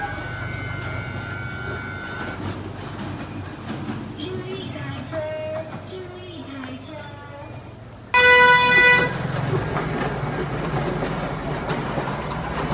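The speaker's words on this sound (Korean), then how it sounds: "제가 타고 왔던 귀여운 미니 기차예요." Small tourist mini train at Wulai, Taiwan, rumbling and clattering along the track with a steady rolling noise, a few horn-like tones and squeals, and a loud burst of sound partway through.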